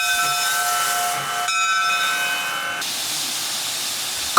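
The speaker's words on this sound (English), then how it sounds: "Coal is fired, water boils, steam fills the cylinders and pushes the pistons, which turn the driving wheels." Steam hisses and a sustained whistle-like tone from a coal-fired steam locomotive on the WW&F narrow gauge railroad in Alna, Maine, loud and close, with the tone cutting off partway while the hiss continues steadily.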